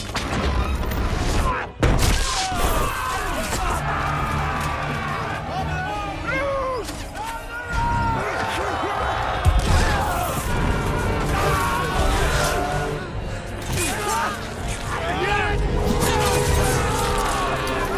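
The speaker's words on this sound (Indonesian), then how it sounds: "untuk menghujani kastil tersebut menggunakan tembakan batu" Film battle sound effects of stones hurled at a castle, a dense, loud, continuous din of crashes, thuds and booms with clattering debris and shouting throughout.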